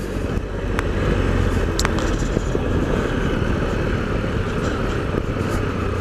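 An off-road motorcycle engine labors at low revs up a dirt trail, a steady rumbling drone close by with faint clicks and knocks from the ground, no speech.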